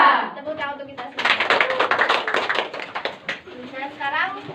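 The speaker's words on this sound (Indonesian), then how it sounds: "Tepuk tangan untuk kita semua." Children in a classroom clap together for a few seconds, a dense burst of hand claps in the middle, with a teacher's voice talking before and after.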